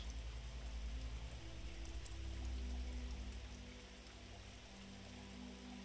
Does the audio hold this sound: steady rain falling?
yes